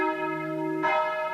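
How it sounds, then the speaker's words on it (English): Old church bells ring in a town in France, a sustained, resonant metallic tone with layered overtones, a fresh strike swelling in near the end, moderately loud and heard alone without voices. "The old church bells are still ringing."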